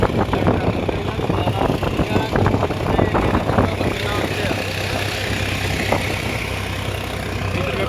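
A tractor engine runs on a steep mountain road toward Naina Devi, a steady low mechanical rumble that is close and loud, with voices talking over it in the first half.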